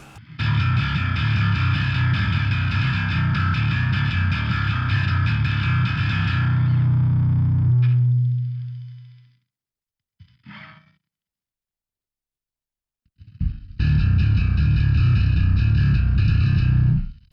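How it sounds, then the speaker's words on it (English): Heavily distorted metal bass guitar through a JST Toneforge Hellraiser plug-in, playing a dense growling riff with bright clank that rings out and stops, then starts again after a short gap. "I love clank on the metal bass tone"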